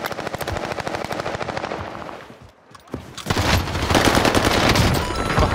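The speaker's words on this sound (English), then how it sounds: "Under fire." Rapid automatic gunfire from Call of Duty Warzone, bursts of machine-gun fire with a brief lull, then sustained, louder shooting close by.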